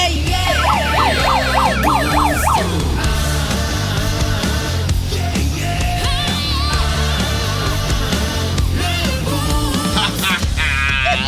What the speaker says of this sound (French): Ah, c'est un cas de sirène le matin.